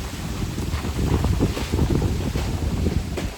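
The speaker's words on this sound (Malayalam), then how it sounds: "ഒരു രക്ഷയില്ലാത്ത ഭയങ്കര കാറ്റ" Strong wind buffets the microphone in heavy, continuous low rumbling gusts, with no voices.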